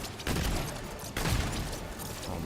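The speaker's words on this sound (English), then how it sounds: "the recoil on this gun is brutal" Gunfire from a heavy-recoil gun in Remnant 2, two loud bursts of shots close together amid dense game noise.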